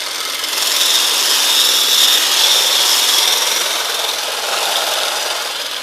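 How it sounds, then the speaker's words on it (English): Dalgona coffee being beaten by hand with a whisk, a steady, close scraping whir that runs continuously for about six seconds with no talking. "then you beat it with a whisk"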